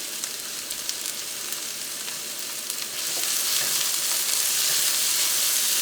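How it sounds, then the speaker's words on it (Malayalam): Chopped onion, curry leaves and green chili go into hot oil, raising a steady, dense sizzle that grows louder partway through and keeps crackling without pause. "ഇപ്പോൾ ഓയിൽ നന്നായിട്ട് ചൂടായിട്ടുണ്ട്. ഇനി ഇതിലേക്ക് നമുക്ക് നമ്മൾ ചോപ്പ് ചെയ്ത് വെച്ചേക്കുന്ന സവോള ചേർക്കാം"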